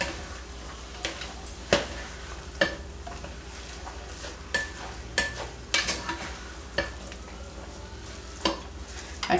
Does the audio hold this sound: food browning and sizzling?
yes